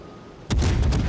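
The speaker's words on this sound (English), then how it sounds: "One salvo out from the front guns, and he's down." HMS Fiji's front guns fire a salvo in a naval warship game: after a quiet moment, a sudden loud boom, followed by a few rapid overlapping blasts that roll together.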